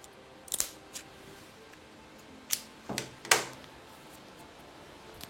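A cigar tip is snipped with a cutter, several faint sharp clicks spaced over a few seconds, the last one crisp and closer, in a quiet room with no talk.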